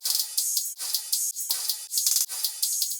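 Bursts of bright, hissy hi-hat percussion in a repeating rhythmic pattern for future bass, tightly compressed through glue compressors with sharp starts and stops, no voices.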